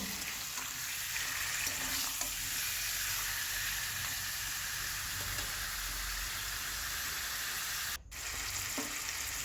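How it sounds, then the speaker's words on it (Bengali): Chicken pieces frying in about four spoons of white oil in a pan: a steady, dense sizzle holds close and even throughout, with a brief dip near the end. "কড়াইয়ে তেল দিয়েছি সাদা তেল চার চামচের মতো দিয়ে মাংসটাকে ভালো করে বেশ ভেজে নেব"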